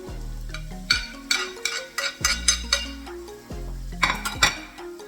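Chopped red peppers are stirred in a skillet, a spoon knocking and scraping against the metal pan in irregular clinks and thuds over a low simmer, close up.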